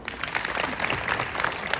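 Schoolchildren in a classroom wellness session clap together, a short, steady patter of many small hands heard at moderate distance.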